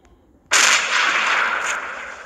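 An M200 sniper rifle fires once in a video game, a single loud sharp crack with a long, bright blast tail that hangs on for nearly two seconds, heard alone.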